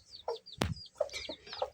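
A favourite hen in a village yard gives a few soft, close clucks with a sharper squawk in the middle, quiet and unhurried with no voices.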